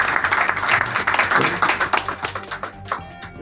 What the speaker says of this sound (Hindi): मैं एक बार अपनी ओर से और आप सभी की ओर से एक बार आपके स्वागत में ताली बजाऊंगा